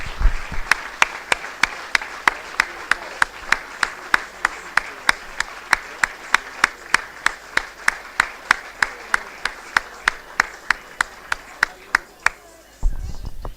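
Steady, evenly spaced clapping in unison from a football club crowd at Slough Town honouring the Clubman of the Year, continuing for several seconds under faint talk.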